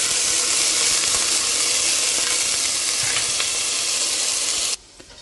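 Butter sizzling in a hot pan while cooking chicken tikka masala, a steady close crackling hiss that runs evenly for several seconds and then cuts off abruptly into near quiet.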